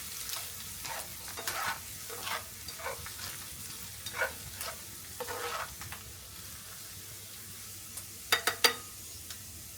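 A pork chop in a pan with butter and olive oil, with a soft sizzle under repeated spoon scrapes and stirs and a few sharp clinks near the end.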